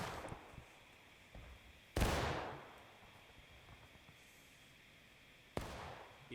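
Gunfire in a large multiplayer war video game set in the American Civil War, with two sharp, booming shots several seconds apart that ring out and decay slowly over a faint, steady background.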